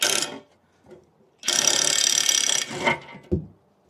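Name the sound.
removing a T45 fender strut bolt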